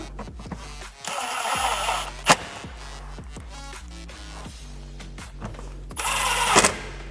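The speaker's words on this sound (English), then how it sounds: "Grab our drill. Our Phillips bit and our 2 screws, and screw that back in." A cordless drill with a Phillips bit driving two screws back into plastic trim in a 70 Series LandCruiser, close whirring bursts with pauses between them and a sharp click in the middle.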